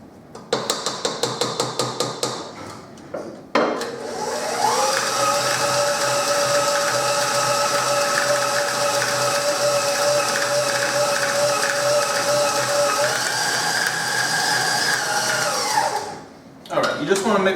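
An electric mixer churns biscotti dough for an Italian biscotti recipe, a few sharp start-up knocks giving way to a steady, loud whirring hum that holds for about twelve seconds before winding down to a stop.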